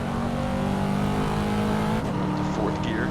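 A Corvette C7's engine roars loudly and continuously in the Assetto Corsa racing game during a warm-up lap, with a gear change partway through and the pitch climbing again afterward.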